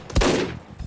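Gunfire in the VR shooter Hot Dogs, Horseshoes & Hand Grenades: one loud, punchy shot with a booming low-end tail, quick and alone.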